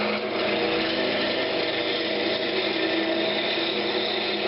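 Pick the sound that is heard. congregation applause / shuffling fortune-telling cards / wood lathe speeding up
wood lathe speeding up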